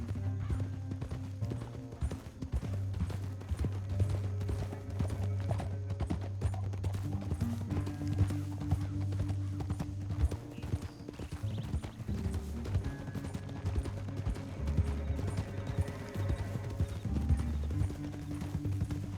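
Steady rhythmic clopping of horse hooves in Red Dead Redemption 2 over a low game music backdrop, continuous and moderately close throughout.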